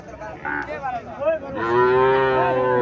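A Sahiwal bull calf at the Mirshanni cattle market in Comilla moos twice nearby, a short low call followed by a longer drawn-out bellow, with no talk over it.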